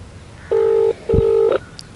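An unanswered phone call rings twice through a handset, two clean electronic ring tones about half a second long separated by a short gap, close and clear over faint background noise.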